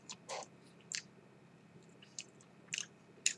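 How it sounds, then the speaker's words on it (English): Chewing a bite of a Carolina Reaper chile pepper dish: soft wet bites and mouth clicks come in several short bursts close to the mic, with quiet pauses between them and no speech. "I'm just going to take another bite of this."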